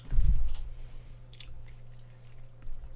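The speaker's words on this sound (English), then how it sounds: "I don't like chewing on paper, man." A piece of paper being chewed, a loud close squishy crunch at the start followed by quieter, softer mouth sounds over a low hum and a faint second bite near the end.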